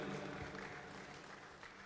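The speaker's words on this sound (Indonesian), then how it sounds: "tepuk tangan buat Pak Mangindaan" A crowd at a Demokrat Party gathering claps steadily for Pak Mangindaan, a dense wash of applause that tapers slightly in level without any speech over it.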